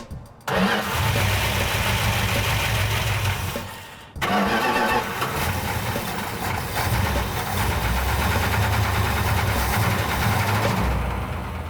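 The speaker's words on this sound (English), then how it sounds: "We're going to take the car outside and run it for a little while longer" A Plymouth Cuda engine starts and runs, cranking briefly, then catching into a steady loud idle, cutting out for a moment and restarting into a sustained rumbling run close by.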